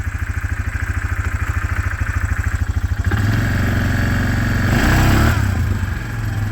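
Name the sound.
Yamaha Grizzly ATV engine accelerating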